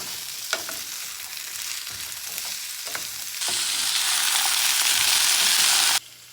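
Potatoes and carrots fry in hot oil with chilli and garlic for a shrimp curry, spoon taps at first, then the sizzle swells loudly for a few seconds before cutting off.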